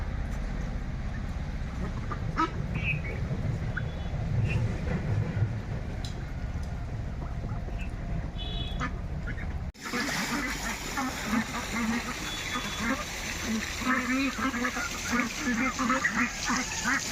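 A flock of Pekin ducks on a duck farm quacks and chatters as a constant close din, mixed with splashing and some clucking fowl, while a voice talks over part of it.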